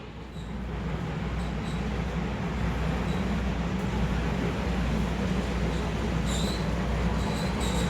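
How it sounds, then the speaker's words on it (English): A G-scale model railway train runs on a layout set up inside a railway coach, giving a loud, continuous rolling rumble with faint high squeals now and then. "They also had a G-scale model railway layout set up in one of the coaches, so here's a bit of footage I got from that."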